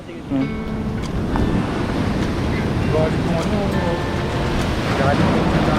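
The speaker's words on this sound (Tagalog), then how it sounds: "Lakas ng alon, guys." Strong surf on Cabongaoan Beach, Pangasinan, a white-sand shore, rolls and crashes in a steady loud wash, with wind buffeting the microphone throughout.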